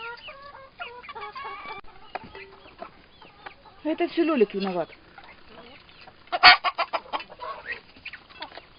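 Mixed poultry yard of large hens, bantam crossbreeds and a rooster: rapid clucking and cackling, with a louder drawn-out squawking burst midway and another sharp outburst later, while someone speaks briefly over it.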